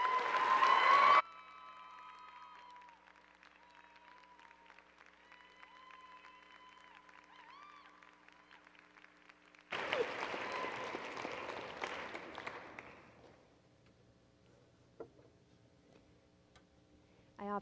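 Warm applause from a lecture audience greets a professor, loud and dense for about a second, then a quieter stretch with faint ticking, followed by a second burst of clapping that swells and fades out.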